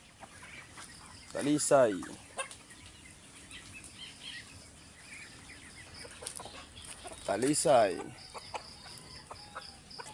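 Hens clucking in short bursts, two louder spells of rapid clucks and flapping, with someone speaking briefly near the start and end.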